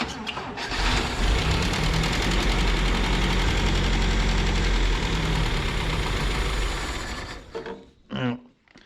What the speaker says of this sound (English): hopefully that fuel pump gets fuel in that carburetor and she runs